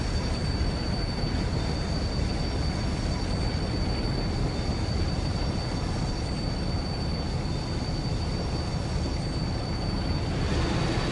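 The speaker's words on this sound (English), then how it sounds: "You always get a lot of squeaking and grinding going around here as well" On a curving stretch of line in Train Sim World, steel wheels squeak and grind against the rails, a sustained high-pitched squeal over a constant heavy rolling rumble, loud and uninterrupted throughout.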